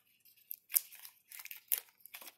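Strips of tape torn off a roll in short ripping bursts, about three or four quick tears with crinkly pauses between, close and fairly quiet, used to hold down the wheels of a homemade puff mobile.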